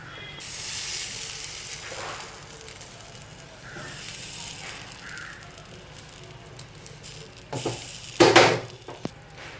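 Appam batter sizzles softly as it is poured into the hot cups of a nonstick paniyaram pan. A low frying hiss runs throughout, and louder clatter and sizzle bursts come near the end.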